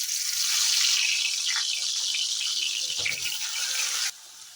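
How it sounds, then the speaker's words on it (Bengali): Potatoes coated in chili powder, salt, turmeric and mustard oil fry in hot mustard oil in a wok, giving a loud, steady close sizzle that thins sharply near the end, with a faint clatter. "তেল গরম হয়ে গেছে, এবার আলুগুলো ভেজে নেব।"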